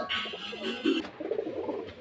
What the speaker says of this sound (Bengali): এই যে পায়রা অনেক পায়রা দেখাচ্ছি